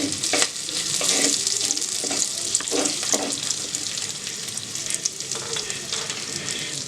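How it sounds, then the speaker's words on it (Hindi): Garlic cloves, ginger and green chillies sizzle hard in hot oil in a clay kadai, a dense close hiss with occasional stirring scrapes and soft knocks throughout, no voices present. "8-10 लहसुन की कलियां इसमें डाल देंगे, कुछ अदरक, 3-4-5 हरी मिर्च। इसको फिर थोड़ा सा फ्राई करेंगे।"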